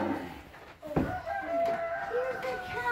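Chickens cluck and call nearby, with a short sharp crowing burst near the start and softer murmuring bird sounds after.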